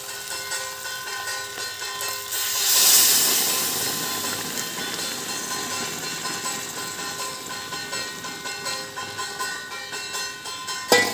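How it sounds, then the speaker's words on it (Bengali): Hot water poured into a pot of frying chicken curry, setting off a loud steady hiss and sizzle that swells early and then holds for several seconds, close up with no talk. "এবার আমি গরম জলটা দিয়ে দেবো"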